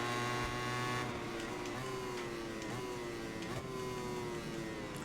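A steady, droning motorcycle engine in the racing video game MotoGP 21 hums loudly throughout, with gear shifts and pitch changes as it accelerates, joined by other engines nearby.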